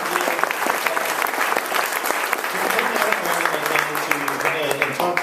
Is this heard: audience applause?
yes